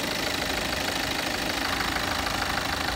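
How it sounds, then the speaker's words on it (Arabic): BMW 520d with a twin-turbo diesel engine idling, a steady, loud and close rumble with a light knocking texture and no talk over it. "موتور توين باور تيربو يعني دوبل تيربو، موتور في جوج ديال التيربوات"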